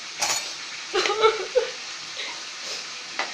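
A wooden spoon stirring food sets off a few short, scraping clatters with quiet gaps between them.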